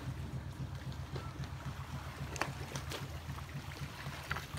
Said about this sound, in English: can hear these waves